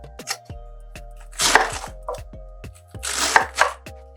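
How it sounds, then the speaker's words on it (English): A knife roughly chops Napa cabbage for slaw on a cutting board, with a steady run of sharp, close thunks and two bursts of rustling leaves as the cabbage is moved, and no talking. "just a rough chop on it"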